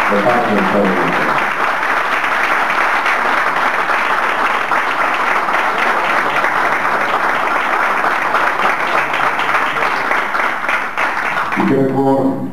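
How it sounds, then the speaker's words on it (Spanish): A large audience at a tribute event gives warm, sustained applause, a thick continuous wash of clapping that holds steady for over ten seconds, with brief speech at the start and end. "creo que se merece un aplauso muy caluroso"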